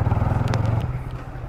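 A motorcycle rides close by with a throbbing, pulsing engine note that holds steady and then eases off slightly toward the end.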